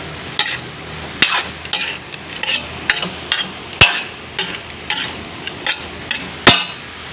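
Scrambled egg being stirred into sautéed bitter gourd in a pan: a utensil scrapes and clacks against the pan in a steady irregular rhythm, about a dozen sharp knocks over a soft sizzle, with no talking.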